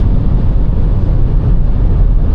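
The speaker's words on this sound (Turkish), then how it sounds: "Bak rüzgar sesi de böyle 130'da dediğim gibi belirgin hale geliyor." Steady, loud rushing wind noise with a low road rumble fills the interior of an MG4 electric car driving at around 130 km/h or faster, continuous and unbroken.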